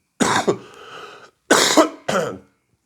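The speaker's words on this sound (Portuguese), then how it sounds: "tá vendo tanto que minha tosse tá carregada?" A man gives two heavy, chesty coughing fits, close to the listener, the second followed by a shorter rasping cough, with silence in between.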